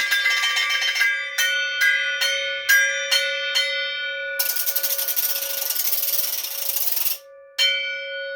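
Bright metallic ice bells ring in a series of sharp strikes, then a small ratchet device makes a sustained rattling clatter, followed by a few more ringing hits.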